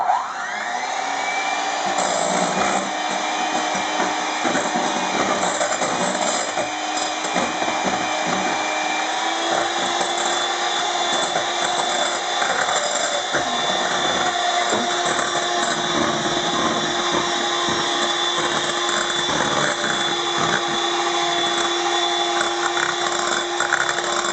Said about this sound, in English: Then I'm going to keep whipping this until it's smooth and velvety.